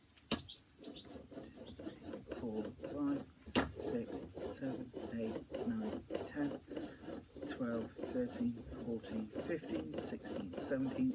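A steel woodworking chisel being sharpened by hand, with steady back-and-forth rubbing strokes against a sharpening stone in a close, even rhythm, while a person counts aloud over it.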